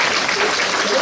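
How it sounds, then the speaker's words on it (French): A French stage audience applauds during a comedy show, a steady wash of clapping that holds evenly for the whole second without a break. "Prenez votre temps pour les applaudissements."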